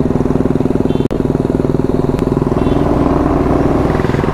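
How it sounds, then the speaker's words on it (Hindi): A Royal Enfield Classic 350 motorcycle engine runs with a steady, loud thumping idle close by, broken by a brief sharp click partway through. "तो ऐसी कुछ पुरानी वाली रॉयल इनफील्ड है और ऐसी अपनी नई वाली।"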